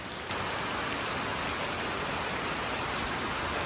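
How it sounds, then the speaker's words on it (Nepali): Heavy rain pours down steadily outdoors on a dark, overcast day, a dense, loud, continuous hiss with no voices, holding unbroken throughout. "एकदमै ठुलो पानी पर्दैछ यहाँ"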